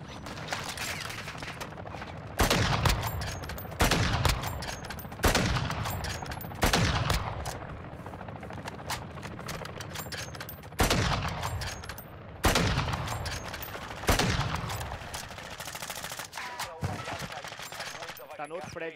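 Sniper and other gunfire in the video game Call of Duty DMZ: loud, sharp shots crack out one by one at irregular intervals of a couple of seconds, each trailing into echo over a steady background rumble, with no voices.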